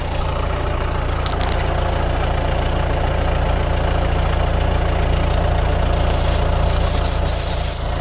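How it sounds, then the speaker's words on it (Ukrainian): A car tyre air compressor drones with a steady mechanical hum throughout alongside the car's engine idling, with a brief hiss of air near the end. "Так, завели автомобільчик, підключили компресор."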